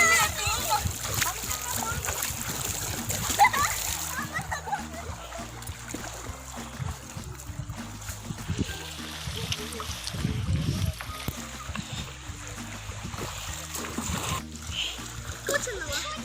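Someone wades into the Godavari river, and river water splashes and sloshes irregularly throughout. Adults and children talk nearby over the splashing, with a heavier surge of water near the middle.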